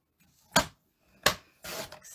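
Paper trimmed to size for an arrow flap fun fold card, heard as two sharp close cuts about 0.7 seconds apart, then a longer rustling slide of the blade or paper.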